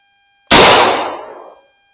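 A single sharp report from a 120-year-old Winchester 1892 lever action rifle firing a Hornady 44-40 (44 WCF) cartridge, loud and close with a ringing decay of about a second, then quiet.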